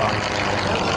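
A Yak aerobatic propeller airplane performs a step roll at an air show, its engine drone steady and fairly loud throughout a brief moment, with voices mixed in.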